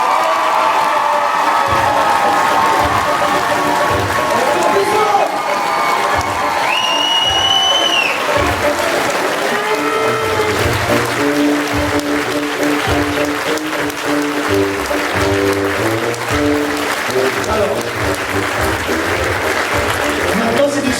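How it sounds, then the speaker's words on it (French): Audience applause at a stage show in a theatre, a dense steady wash of clapping that runs throughout, with crowd noise, a few cheers and a rhythmic beat underneath. "Diane, c'est vos applaudissements."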